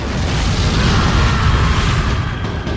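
Cannon bombardment during the siege of Constantinople roars as a dense, loud, continuous rumble of heavy booms blending into one sustained barrage.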